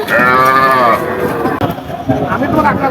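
Cows and calves moo at a busy cattle market, one long loud low moo up close followed by fainter bellows amid crowd noise and people talking.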